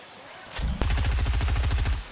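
Gunfire in Fortnite during the Summer Skirmish grand finals at PAX. A single shot is followed by a rapid automatic burst of loud, evenly spaced rounds lasting over a second.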